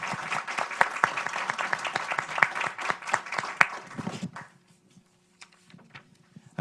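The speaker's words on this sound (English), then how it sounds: "please join me in a round of applause for our awesome panelists" Audience applause for a panel at a national security forum, a dense burst of clapping with sharp individual claps that stops abruptly after about four seconds, leaving near silence with a few scattered late claps.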